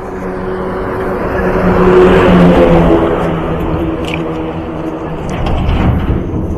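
A truck rumbles along a road under construction near Fatepur on the Bodwad–Jamthi route, its engine droning loudly close by, swelling as it passes and then easing into a steady, rough road noise.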